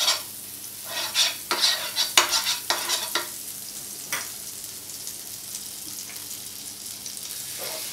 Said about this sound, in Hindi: अभी हम गैस शुरू करते हैं, इसमें थोड़ा बटर डाल देते हैं।